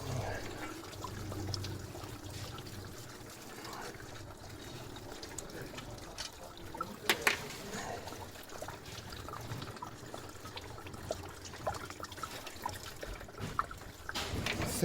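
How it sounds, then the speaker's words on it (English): Coolant trickling and dribbling out from behind the water pump of a J-reg Vauxhall Cavalier 2.0 16v, a faint, continuous liquid trickle with small splashes and occasional knocks of tools nearby. "coolant starting to leak out from behind the water pump."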